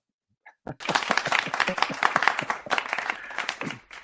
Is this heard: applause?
yes